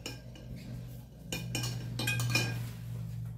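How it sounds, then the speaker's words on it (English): Spoon stirring Javy coffee concentrate in a cup, a quick series of close metallic clinks against the cup, quiet and alone. "Give this a good stir."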